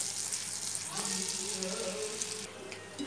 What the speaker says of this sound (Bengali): এটা কিন্তু এভাবেও ভাজা যায়।